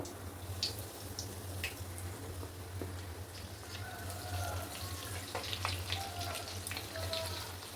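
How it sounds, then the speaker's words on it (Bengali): French fries frying in hot oil over a medium gas flame in a home kitchen, a steady soft sizzle and bubbling hiss with faint crackles, continuous and fairly quiet. "তো এখানে তেলটা যথেষ্ট গরম হয়ে গেছে, এবার আমি ফ্রেঞ্চ ফ্রাইগুলো যে দিয়ে দেব।"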